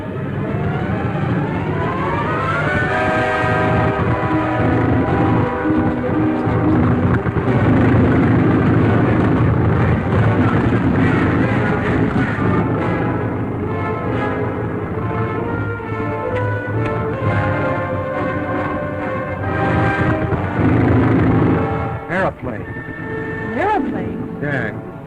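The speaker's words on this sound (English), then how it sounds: "Listen. An aeroplane. An aeroplane in this jungle?" A 1930s aeroplane engine drones steadily overhead of a jungle while the plane tries to land, a loud continuous motor hum with shifting tones lasting throughout, with voices talking over it.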